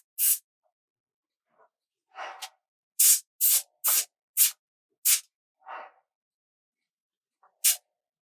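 Airbrush spraying ink for shadows, about ten short, sharp hissing bursts, loud and close, separated by silence and fainter softer puffs.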